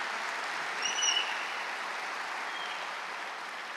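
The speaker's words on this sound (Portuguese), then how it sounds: "queria pedir uma salva de palmas muito sincera e muito forte para o Jordão" An audience at a Brazilian conference event gives steady, even applause, a continuous wash of clapping that holds at one level from start to finish with no speech over it.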